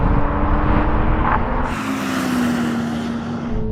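A 3-litre Toyota Supra races past, its loud engine roar swelling and then receding at close range in a drag-style run, with no voices.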